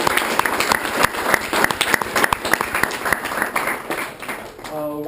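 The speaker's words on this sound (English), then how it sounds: "please can we have another round of applause for Professor" Another round of applause for a professor from a lecture audience, brisk and fairly loud clapping that holds steady for several seconds before trailing off.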